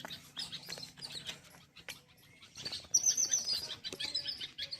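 A parrot gives bright, high-pitched chirps and calls, repeated in short bursts, growing louder toward the end, with some background rustling, on a morning walk in Surapur.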